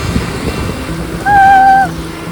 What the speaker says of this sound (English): the wind's up in case you can't hear it